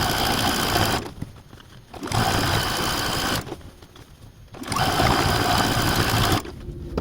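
A sewing machine stitches binding and rickrack around a quilt in three long steady runs, a close, loud motor whir with brief quiet pauses between bursts.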